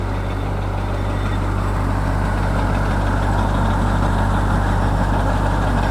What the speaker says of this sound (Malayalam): ശക്തമായ ട്രാക്ടർ ഉപയോഗിച്ചുള്ള മോട്ടോർ കൊണ്ടാണ് ഈ ഒരു മോട്ടോർ പ്രവർത്തിക്കുന്നത്